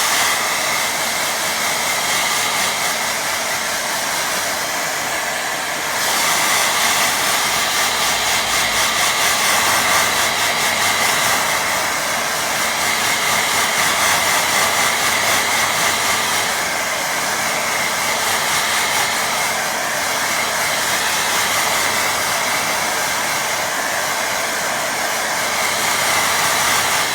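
A hair dryer blows steadily and loudly across a wet watercolour painting, a continuous broadband whoosh with slight shifts in tone as it is moved, with no voices over it.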